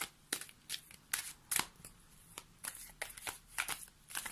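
Oracle cards shuffled and drawn by hand, a close, quiet run of quick riffling snaps and papery slides repeating in an uneven rhythm, with no talking.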